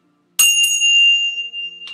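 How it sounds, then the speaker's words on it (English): Tibetan bells rung for peace during morning prayers: a bright metallic strike that blooms into a long, clear, sustained ring, with a second soft touch early on and a fresh faint strike at the end. "let us just ring our bells, our Tibetan bells for peace"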